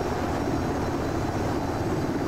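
A UH-60L Black Hawk helicopter in the DCS World flight simulator gives off a constant, dense engine and rotor drone, loud and unbroken, with no voices.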